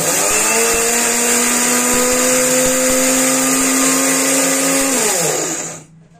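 An electric mixer grinder pulverizing home-grown fenugreek seeds runs as a loud, steady whirring roar with a slight pitch dip near the end, then winds down and stops abruptly.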